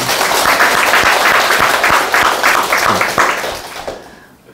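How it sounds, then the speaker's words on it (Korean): A lecture hall audience gives loud, full clapping for a questioner at a talk on Sasang constitution health. The applause holds steady, then fades out toward the end. "제가 이 마지막으로 오늘 질문하신 분을 위해서 박수 한번 주시죠."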